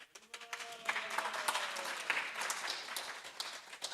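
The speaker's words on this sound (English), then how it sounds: "I guess everyone's clapping because it was such a big feat for him" An audience breaks into steady applause after a heavy garland is placed, many hands clapping together at moderate distance, sustained and fairly even throughout.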